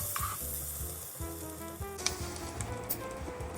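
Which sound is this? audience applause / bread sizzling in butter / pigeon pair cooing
bread sizzling in butter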